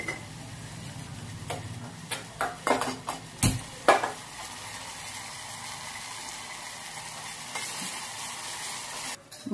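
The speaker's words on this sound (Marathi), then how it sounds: "मसाला आता तेलामध्ये परतून घेऊया." Spice masala frying in hot oil with a steady sizzle, broken early on by sharp scraping and stirring knocks of a spoon against the pan, then settling into a continuous close-up hiss.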